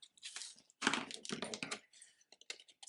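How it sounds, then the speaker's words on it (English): Paper is cut along a score line for a notepad craft, giving a run of small crisp snips and crinkly cutting sounds in uneven bursts with short gaps between them, close and fairly quiet, with no talking. "I'm cutting straight all the way to the second score"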